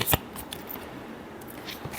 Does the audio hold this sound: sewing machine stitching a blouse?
no